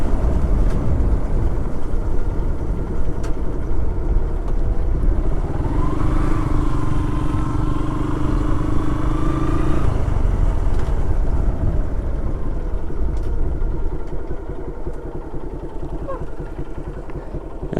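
A motorcycle damaged in an accident runs with its engine idling steadily for the whole stretch, a droning tone rising briefly in the middle, alongside background clatter and distant street noise.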